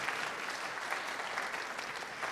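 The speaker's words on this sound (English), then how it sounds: "Round of applause." Steady audience applause at a school jazz concert by PHS and Bay Trail students, a dense even patter of clapping from a seated crowd with no voices above it.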